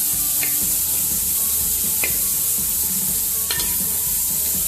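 Onion and garlic frying in oil in a pan, a steady close sizzle with a few sharp stirring scrapes, no talk.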